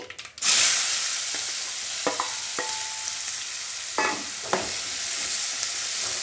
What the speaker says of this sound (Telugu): ఆవాలు చిట్పటమంటున్నాయి